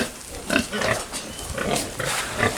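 A fattening pig grunts and snuffles up close, loud rough bursts coming in an irregular rhythm, with no talk over them.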